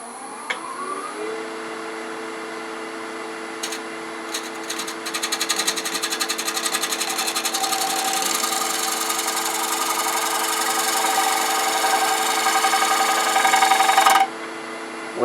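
Woodturning lathe with a negative rake scraper cutting wood, a steady broadband scraping hiss over a constant motor hum, gradually growing louder and more textured before stopping abruptly near the end.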